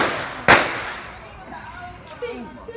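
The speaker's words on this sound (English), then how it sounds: "Hey, Tom, you got more firecracker" A firecracker goes off once with a sharp, loud bang that quickly decays into the open air, followed by quieter outdoor background with faint voices nearby.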